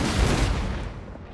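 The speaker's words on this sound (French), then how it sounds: "Eux aussi, ils ont des canons." Cannon artillery fire in the Empire Total War battle of Warsaw, a dense rolling volley of booms that starts loud and then fades into a rumbling tail, with no voices.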